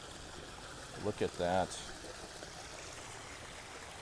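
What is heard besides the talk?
swimming pool water feature running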